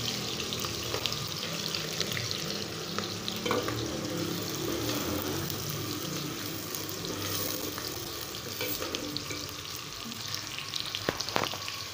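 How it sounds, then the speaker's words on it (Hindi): Onion and green chillies frying in hot ghee, a loud continuous dense sizzle throughout with faint stirring clicks, close up and without talk. "घी हमारा गर्म हो चुका है अब हम इसमें ऐड करते हैं मिसाला प्याज और हरी मिर्च"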